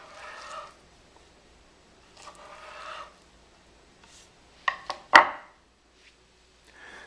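Bear Grylls Ultimate Survival Knife with a 5-inch drop-point blade chopping food in a home kitchen: a few quiet scraping strokes, then two or three sharp knocks on the board, close and fairly faint.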